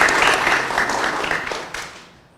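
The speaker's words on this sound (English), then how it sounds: "Let's give them a round of applause" Audience applause at a press briefing, loud and dense at first, then thinning and fading away toward the end.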